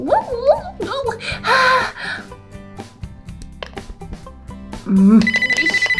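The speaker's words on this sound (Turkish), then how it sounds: "telefonum çalıyor" Voices and a child chatter and laugh during playful activity before a telephone starts ringing near the end in a loud, rapid series of repeated pulses.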